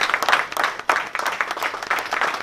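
Audience in a hall clapping for an arriving guest of honor, lively uneven applause with pronounced individual claps standing out from a steady crowd wash.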